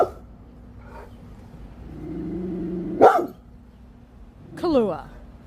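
A pet dog at home gives a few short barks and growly yips, close and moderately loud, spaced apart with quieter stretches between.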